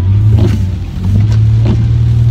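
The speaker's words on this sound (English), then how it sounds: "Okay, I'm driving right now" A car driving along, its steady low engine rumble and road noise holding throughout with a few brief, faint knocks and shifts on top, no voices.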